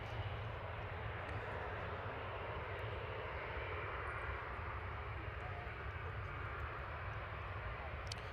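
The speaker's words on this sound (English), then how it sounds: "That was Jet2 to Dalaman that just left, flight 921" A Jet2 passenger jet departing Manchester Airport gives a steady, broad engine roar that holds evenly throughout, fairly distant and continuous with no talk over it.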